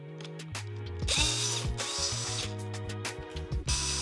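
A power drill whirs in short bursts with ratcheting clicks as it removes Torx screws from a sprayer switch, each spin-up rising and stopping close by.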